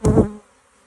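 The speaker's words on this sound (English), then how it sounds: "the bees are flying like crazy here" Honey bees buzzing at a beeswax processing shed on a farm, a loud close burst of droning for under half a second that quickly fades to a faint hum.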